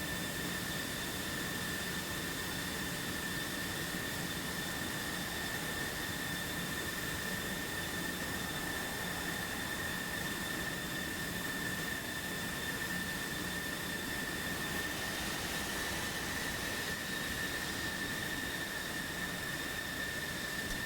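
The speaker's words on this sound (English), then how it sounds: "we see the F-14 taxiing to the runway" A steady, high whining jet engine drone from an F-14 taxiing toward the runway in a combat flight simulator, a constant, unbroken roar with a piercing tonal whine, no speech over it.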